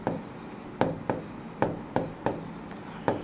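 A pen writes on paper while a Class 10 maths solution is worked out, making close, dry scratchy strokes in short bursts with brief pauses between them, with no voices over it.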